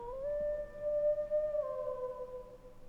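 A creature's long drawn-out howl rises and sustains in the video game Final Fantasy XVI, a single quiet tonal wail over a low ambient background.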